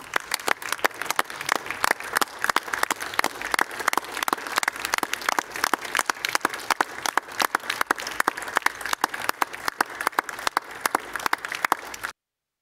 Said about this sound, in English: I'd ask Council to join me in a round of applause for Jan Houston